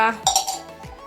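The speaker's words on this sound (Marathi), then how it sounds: "अरे ग्लास पडला आपला" A drinking glass falls and clinks, giving a couple of bright, close chinks and a ringing rattle that fade within a second, while a voice speaks.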